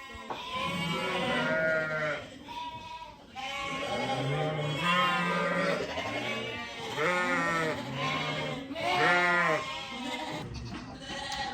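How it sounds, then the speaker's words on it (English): Many lambs bleat loudly and continuously in a crowded footbath pen, overlapping calls rising and falling close by, with no talk over them. "So this is the first pen of lambs in the footbath"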